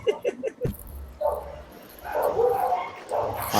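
A dog barks in a quick burst of several sharp yips near the start, followed by further barking and whining with more distant vocal sounds in a house.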